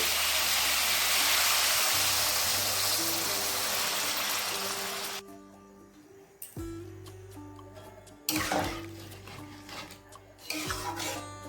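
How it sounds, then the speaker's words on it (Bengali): Water poured into a cooking pot of kohlrabi on a high gas flame, a steady rushing splash for about five seconds that then breaks off into a few clattering, intermittent knocks and splashes. "এবার দিয়ে দেবো জল"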